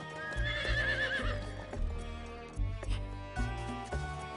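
A horse whinnies loudly and close by, then hooves clop in an uneven rhythm on a hard surface, in Romania.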